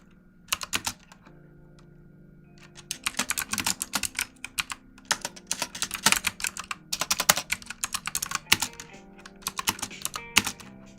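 Someone types on a loud computer keyboard, still new to its keys, with close, crisp key clacks in uneven bursts and pauses and no talking.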